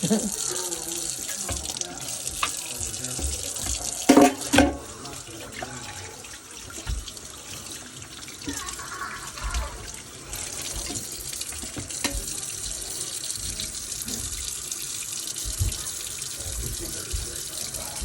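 Tap water runs steadily into a sink as freshly skinned rabbit meat is washed, with a brief louder splash partway through and a continuous close, hissing flow throughout.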